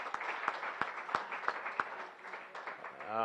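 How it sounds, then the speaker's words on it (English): Rotary Club meeting audience applauding in a room, sparse, fairly distant clapping with a few sharp distinct claps standing out, fading quickly toward the end. "Yes, that deserves a big round of applause."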